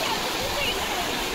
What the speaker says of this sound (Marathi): इकडे जाम पाणी आला